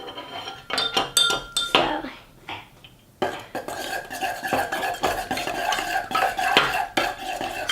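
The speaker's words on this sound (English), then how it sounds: "while the borax is mixing" Borax being stirred into water to dissolve it for slime, with a utensil clinking and scraping against the container in quick, uneven bursts close up.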